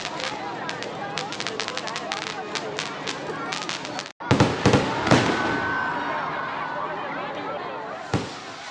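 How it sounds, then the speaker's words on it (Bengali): Fireworks at the Balagarh Rash festival, including water bombs, sparkler fountains and aerial crackers, go off in a string of sharp cracks and pops. One louder burst follows a brief silence. Faint voices sound in the background. "এখানে নানান ধরনের বাজি পোড়ানো হয় জলবোম কদম গাছ আকাশে তুবড়ি ফাটানো প্রচুর প্রচুর বাজি পোড়ানো হয়"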